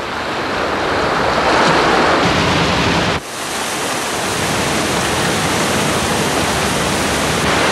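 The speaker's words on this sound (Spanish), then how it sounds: "El mar es bravo en estas costas solitarias" Rough surf on a lonely, driftwood-strewn New Zealand beach roars as a loud, continuous wash of breaking waves, briefly dipping near the middle before surging back in full.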